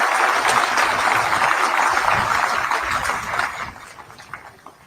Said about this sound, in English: Let's give all them a round of applause and recognition.